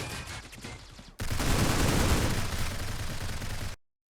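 Video game gunfire erupts suddenly in a sustained, loud barrage of rapid shots lasting a few seconds, then cuts off abruptly.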